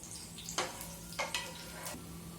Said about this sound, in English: And then stir fry it 30 seconds again.